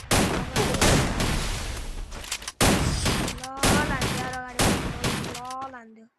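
Rapid gunfire from a shooter video game, loud bursts packed together in the first half and then spaced out, with a voice talking over the later shots.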